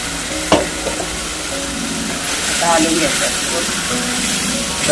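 Chicken with masala being stirred round in a pan, a loud sizzle with scraping stirring and a clear knock near the start, voices faintly underneath.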